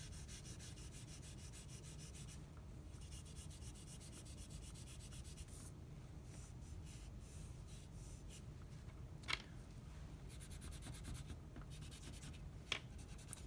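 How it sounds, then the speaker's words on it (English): Tissue paper rubbed over a charcoal drawing to smooth and blend the shading, a quiet, steady papery scrubbing with brief strokes, close and alone. "Come in with my tissue paper and I can just smooth that area out."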